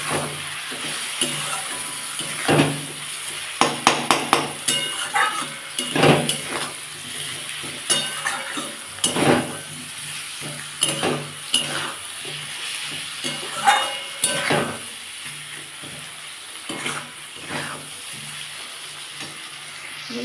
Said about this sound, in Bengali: এটা ভালো করে কষিয়ে নেবো যতক্ষণ না তেলটা বেরিয়ে যাচ্ছে